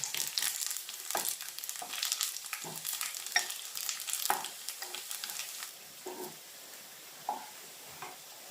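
Aromatics for a prawn roast fry in hot oil with a crisp sizzle, broken by repeated scraping stirs of a spoon in the pan, loud at first and quieter toward the end.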